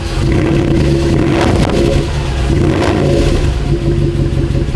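A cheap AMG car engine, jump-started, runs loudly and steadily, rumbling with a rough exhaust note and a couple of small rises in revs.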